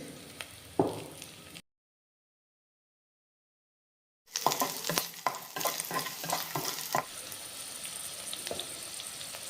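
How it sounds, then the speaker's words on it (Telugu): Garlic cloves fry in hot oil for a drumstick-leaf tempering, a close sizzle with stirring scrapes that breaks off into silence, then resumes as a crackling fry with sharp clicks and spatters. "ఇప్పుడు ఒక 20 వెల్లుల్లి రెబ్బలు వేసుకుందాం"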